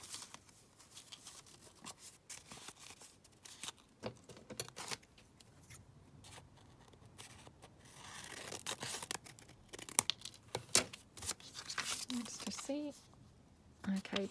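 Scissors trimming an acetate journal book cover, with crisp snips and plastic crinkling in irregular bursts at close range, louder toward the end.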